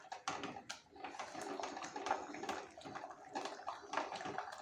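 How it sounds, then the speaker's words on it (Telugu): Soft, repeated squishy pressing and scraping as thick cooked dal with tender tamarind leaves is mashed, a quick uneven rhythm, fairly quiet and close. "ఇలా బాగా మెత్తగా మెదుపుకుంటే"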